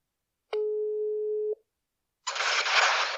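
A telephone call tone sounds as one steady electronic beep lasting about a second, followed by a short silence and then a burst of hissy noise.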